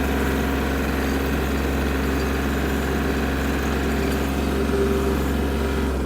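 A compact tractor's small engine idles steadily with a low, even rumble and faint mechanical rattle, continuous and close throughout.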